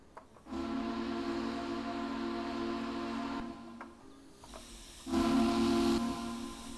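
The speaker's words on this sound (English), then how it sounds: "The whistle has a bit of a fuzzy note to it." Steam whistle of a Western Maryland I-2 2-10-0 Decapod locomotive in Train Simulator Classic, two long sustained blasts with a slightly fuzzy, hissy tone, loud and close, separated by a brief pause.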